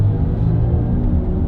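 A 2026 BMW iX3 accelerates hard in sport mode, giving a steady, loud low rumble of road and cabin noise throughout, with no talking.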